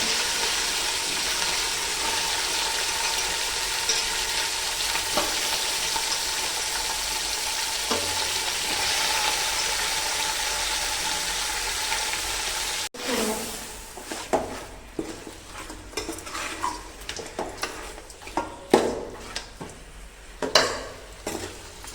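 Chicken and spice paste sautéing in oil for a chicken gravy: a loud, steady sizzle runs unbroken, then the hiss eases and turns into uneven stirring scrapes and clinks of a spoon against the pan.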